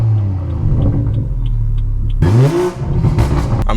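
A car's front-mounted intake roars loudly under acceleration, a steady low engine drone rising into a sharp rev surge about midway, then continuing to pull hard and close.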